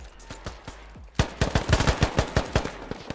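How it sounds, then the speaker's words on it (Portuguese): Gunfire from enemies and a teammate in a multiplayer squad shooter, sparse shots at first, then a rapid string of sharp, loud cracks in quick succession. "Esse tiro mais fininho é deles. O tiro do Fá é um pouco mais grave."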